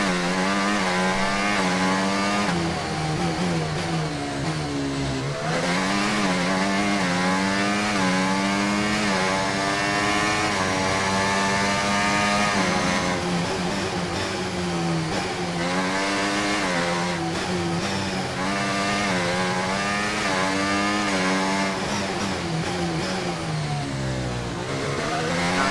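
A racing video game's race car engine at Monaco revs loudly and continuously, rising and falling in pitch through gear changes for the whole stretch, with no voices over it.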